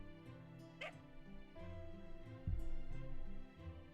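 A dog in the video game Fate/Grand Order barking and whimpering over soft game music: a few short yips and whines, moderately close, with a louder bark-like burst partway through.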